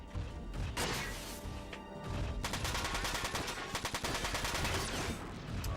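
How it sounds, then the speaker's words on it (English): Dense, rapid gunfire from mech weapons in the video game Front Mission 4, focused on an enemy sniper; a sustained, loud rattling burst with a heavy crash early on, then a steady stream of close, overlapping shots. "Just keep focus firing on the sniper."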